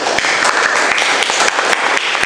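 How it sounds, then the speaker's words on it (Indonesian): Students at a vocational high school assembly in Indonesia applaud together, a steady wash of many hands clapping at close range that carries on for the whole stretch with scattered sharper claps, and no voices stand out above it. "Tepuk tangan buat Indonesia."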